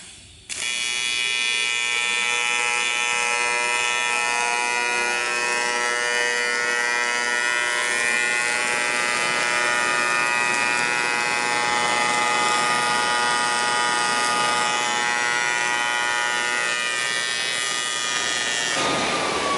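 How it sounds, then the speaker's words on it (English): A Miller Multimatic 220 running AC TIG at 135 amps on 110-volt power lays a quick weld bead. A steady, loud electric buzz starts abruptly, holds for about eighteen seconds, then cuts off, with no talking. "I'm gonna walk over and run just a quick bead on AC, show you guys the performance and how it runs."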